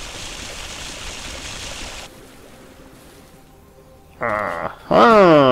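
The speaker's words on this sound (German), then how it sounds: "Kann ich da Wasser reinspritzen?" In the Vessel game, a steady watery hiss runs for two seconds and stops, then after a quiet gap bursts of spraying water start again, the last louder with a warbling gurgle.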